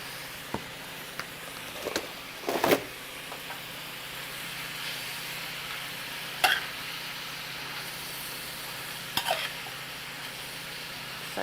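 Mushrooms tipped onto softened onions in a hot pan give a steady close sizzle, broken by a few sharp scraping stirs and pan knocks at irregular intervals.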